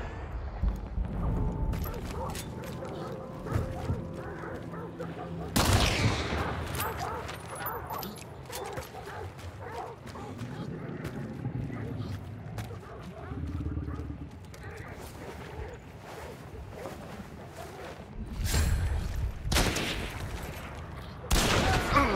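Gunfire in the video game Hunt: Showdown, with several sharp, loud shots breaking over a constant bed of game ambience while a player talks throughout.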